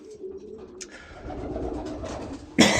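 Domestic pigeons cooing on roosting perches, soft low coos close by and a brief rustle partway through, ending in a sudden loud flutter or clatter, with no speech.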